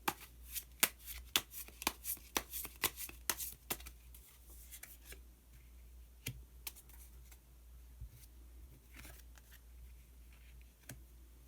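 Tarot cards being shuffled and drawn: a rapid run of crisp riffling snaps and clicks over the first few seconds, followed by sparser single card flicks and soft handling in a quiet room.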